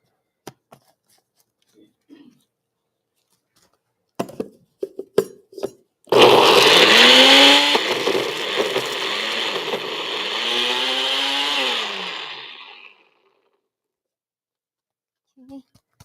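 A blender whirs loudly for about seven seconds, mixing soaked dates and nuts for a holiday dessert, its pitch shifting as the contents churn, with short bursts of clatter and talk before it starts.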